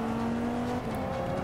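A 2013 Dodge Viper roars at racing speed in Forza 5, its engine a loud, sustained drone with a steady held pitch that shifts partway through, heard alone and up close.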